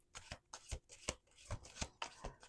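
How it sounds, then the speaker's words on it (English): Playing cards shuffled by hand in a series of quick crisp riffles and taps, close and fairly quiet, with no voices. "Let's do 2 more shuffles here."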